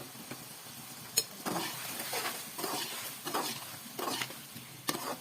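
Spiced masala with turmeric and tomatoes for chicken gravy sizzles and fries in a pan, with a steady crackle and repeated bursts of stirring and scraping, close up, no talking.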